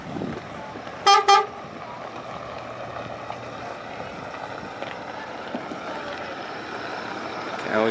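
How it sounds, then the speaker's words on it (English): Two short, loud horn toots in quick succession from a vehicle at moderate distance, followed by a quiet outdoor background. "He always honks his horn."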